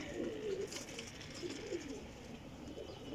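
Pigeons coo softly and repeatedly in low, throaty bursts close by, against a steady background hum with occasional faint rustling.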